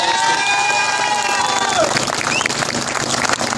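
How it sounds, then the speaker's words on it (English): A crowd at an outdoor Union flag protest rally in Portadown cheers and applauds loudly, a dense, continuous roar of clapping and shouts with a few whistles rising through it. "Give him a round of applause again."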